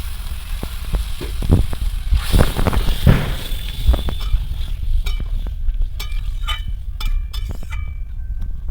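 Water splashes into a pan of sizzling hilsa fish head curry with Malabar spinach stems, steady frying hiss throughout, with sharp clinks and scraping stirs toward the end.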